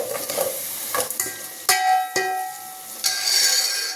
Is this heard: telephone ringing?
no